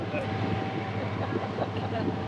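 Towboats and river traffic passing near a lock, a steady broad engine and water rumble with churning wash, heard close and continuous throughout.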